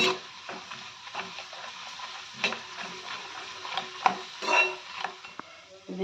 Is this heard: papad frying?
yes